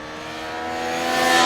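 A Triumph Street Triple 765 motorcycle on the road or track, its engine rising steadily in pitch and loudness as it accelerates over a brief moment.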